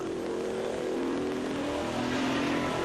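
Pescarolo C60 prototype race car at Le Mans 2005 heard from on board, its engine droning loudly and steadily as it drops gears into a chicane and then builds speed again, a continuous close roar with no pauses.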